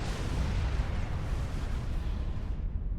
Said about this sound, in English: The nuke silo's going down.